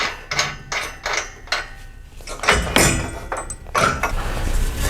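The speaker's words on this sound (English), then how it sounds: "these are just gonna be 15/16 wrench and socket." A 15/16 wrench and socket fastening front bumper bolts during an off-road bumper install, a string of short metallic ratcheting clicks and clanks in uneven bursts, close and moderately loud with no talking.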